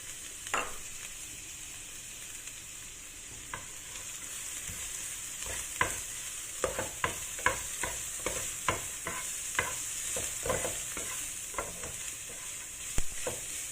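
Ginger, garlic and scallion fry in pork oil, with a steady bright sizzle beneath repeated sharp scraping and clattering stirs that grow busier midway through.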